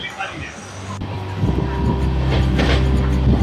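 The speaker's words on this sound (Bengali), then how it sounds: "আমাদের ট্রেন বর্ধমান স্টেশনের 2 নম্বর প্ল্যাটফর্ম থেকে ছেড়ে দিল 17 মিনিট লেটে।" A train pulls out of Bardhaman station, its low engine drone and rumble building steadily from a quieter start, with a voice talking over it.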